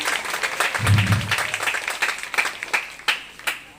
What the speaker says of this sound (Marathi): त्यांच्यासाठी आपण जोरदार टाळ्या वाजवल्या पाहिजे